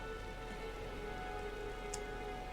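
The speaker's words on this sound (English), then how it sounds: "Oh, now it's raining." Soft, steady rain pattering continuously in the video game Elden Ring, faint and even throughout with no voices.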